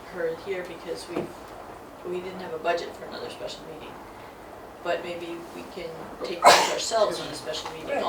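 A single sharp sneeze cuts through a conservation commission meeting, loud and sudden. Several people talk around it in a room with a faint background hum.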